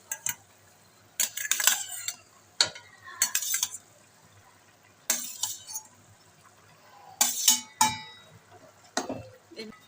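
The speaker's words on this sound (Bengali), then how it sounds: "আমি মাছগুলো দিয়ে দিচ্ছি" Rohu fish pieces go into a simmering home-style curry with pumpkin stems and eggplant, heard as a series of sharp utensil clinks and scrapes in separate bursts with quiet gaps between them.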